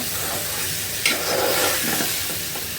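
Brinjal and potato sautéing in a pan, a close, dense sizzle running throughout with a brief sharp scrape about a third of the way in.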